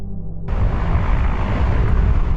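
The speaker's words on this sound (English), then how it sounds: "The sound of rushing water is drowned out by helicopters sent from Israel." A steady, heavy rotor roar of helicopters overhead, loud and continuous after a sudden start, with a low rumbling throb, drowning out rushing water.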